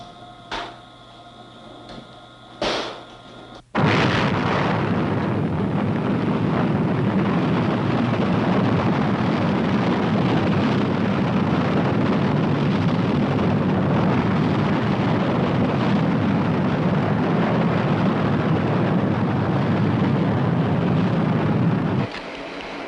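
A Minuteman missile test launch at Vandenberg in the early 1960s: after a few faint clicks, a sudden massive roar bursts in and holds as a steady, dense rumble for nearly twenty seconds before dropping off, with no voices.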